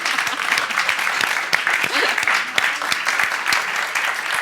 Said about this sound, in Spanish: Yo creo que después de esto un aplauso